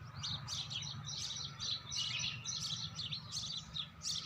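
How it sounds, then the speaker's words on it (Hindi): Birds chirp steadily in a garden with flowering eggplant plants, repeated bright twittering phrases at moderate distance over a low outdoor hum. "आपको पक्षियों की चहचहाट स्पष्ट सुनाई दे रही होगी।"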